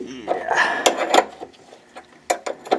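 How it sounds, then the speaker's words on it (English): A ratchet clicks in short bursts as a bolt is taken off a car's oil pan during an oil change, close and fairly loud, with metallic rattles between the turns. "Just taking that bolt off of there."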